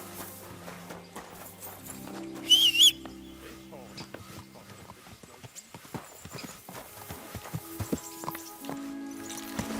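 Steady hoof clip-clops of a horse in Kingdom Come: Deliverance II, a quick bright chime near the start, with a person speaking briefly over the rhythmic trotting.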